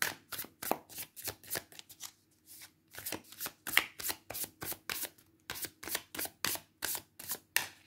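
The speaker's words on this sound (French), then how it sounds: "le message du tarot avec 3 cartes" Tarot cards are shuffled in rapid, crisp bursts of riffling and slapping, close and clear, with one short pause in the middle and no talk.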